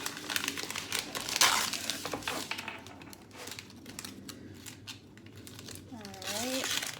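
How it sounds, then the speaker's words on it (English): Paper backing is peeled off sticky embroidery stabilizer close up, with crinkling and tearing rustles in bursts, some crisp crackles, pauses in between, and a person talking briefly near the end. "so I can get the paper off easier. It's the top part of the sticky stabilizer."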